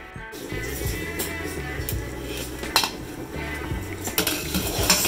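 Chopped onions for bhajia are mixed together in plates, giving steady clinking and scraping of utensils against dishware, with a few sharper knocks, close and fairly loud.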